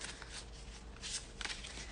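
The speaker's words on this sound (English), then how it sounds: "I'm going to throw these cards back in here and give them a shuffle" Tarot cards are shuffled by hand in a loose, messy way, giving soft papery riffles and rustles in short bursts, close and fairly quiet, with no talking.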